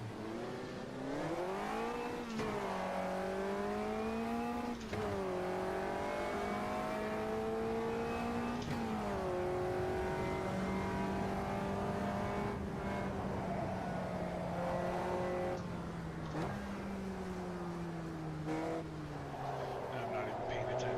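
Race cars in a racing video game roar and rev continuously with rising and falling engine pitch, several cars passing close by, while a person talks over the engine noise throughout.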